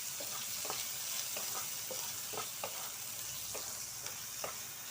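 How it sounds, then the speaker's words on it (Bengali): Chopped onions fry in a pan for a katla fish curry, a steady soft sizzle broken by repeated scraping stirs of a spatula at a fairly even rhythm, with no voices. "পেঁয়াজটাও ভেজে নেব খুব ভালো করে।"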